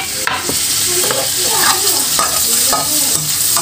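Shallots and garlic fry in a little oil in a pan, sizzling loudly and continuously while a utensil stirs and scrapes them in irregular strokes, close up with no talk.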